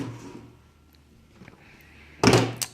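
The filter door of an Electrolux Ultraflex EL4335B vacuum cleaner pops open with a sharp plastic clunk near the end, after a quiet stretch of faint handling noises.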